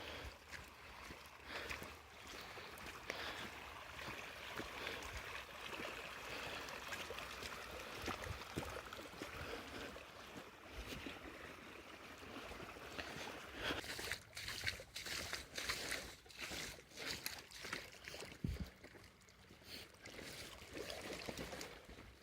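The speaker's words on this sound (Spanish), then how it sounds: "El sonido, el lago." Water of a mountain lake on Monte Tlaloc, heard faintly as soft, continuous lapping and trickling with scattered small splashes.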